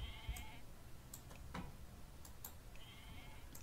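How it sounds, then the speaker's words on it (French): Goats bleat in the strategy video game Age of Mythology, two short nasal calls at the start and end over a faint, steady game background with light ticking clicks between them and no voices. "Les chèvres."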